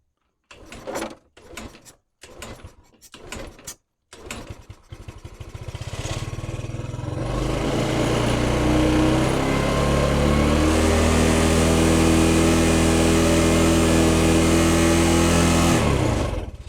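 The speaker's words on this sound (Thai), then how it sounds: "เดี๋ยวสตาร์ทเครื่องใหม่นะครับ" Several sharp clicks and clunks, then a Yamaha Spark Nano scooter's small engine catches and revs up into a loud, sustained buzzing whine that holds steady before cutting off.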